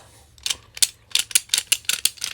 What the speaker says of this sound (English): This is a lever wrench.